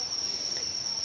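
Crickets left in used egg trays from cricket farming chirp in a thin, steady, high trill, quiet and continuous with no other sound over it.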